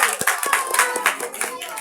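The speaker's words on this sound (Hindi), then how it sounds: "बेटी के लिए जोरदार तालियां होनी चाहिए।" Brisk clapping from several people, a quick ragged rhythm of hand claps at close range, lasting under two seconds.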